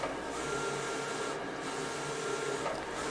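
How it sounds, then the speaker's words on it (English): A Roland VersaCAM print-and-cut machine prints full-color logos on garment transfer material, giving a steady, continuous mechanical whir with a faint carriage shift partway through, close and alone without any voices. "we'll print them out on the Roland VersaCAM print and cut machine."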